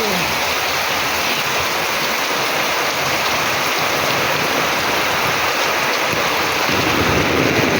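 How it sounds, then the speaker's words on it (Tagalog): Heavy, steady rain pours down at a school during Typhoon Pepito, a loud, unbroken hiss of falling water that stays even throughout with no voices. "So medyo maulan"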